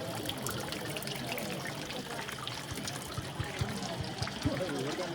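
Mountain spring water trickles and pours steadily near a Himalayan-style hill pilgrimage trail, a continuous close splashing wash with faint voices and crowd noise mixed underneath.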